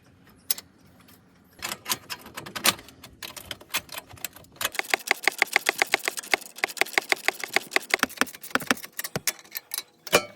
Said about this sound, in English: we're going to go ahead and tighten our new V-band clamp up onto our turbo